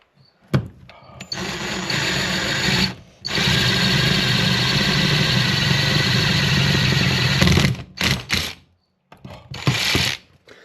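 Power drill boring holes for a custom headrest camera mount, loud sustained whining runs broken by brief pauses and a few short bursts near the end.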